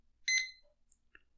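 A C.Crane CC Radio SW portable shortwave radio gives a single short electronic beep while scanning, followed by a couple of faint blips in otherwise quiet surroundings.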